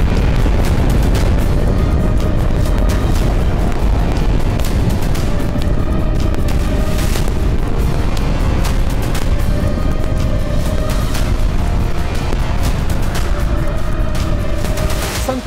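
Loud, continuous rumbling booms from missile explosions, dense and unbroken throughout, with sharper blasts standing out now and then.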